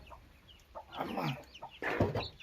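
Newly hatched Indian country chicken chicks in a box give faint, soft peeps and rustles, close but quiet, in a few short bursts over a low background hiss.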